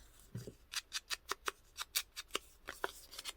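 Scissors snipping paper for a junk journal, a quick series of about fifteen crisp close cuts in an uneven rhythm, faint and isolated with no talk.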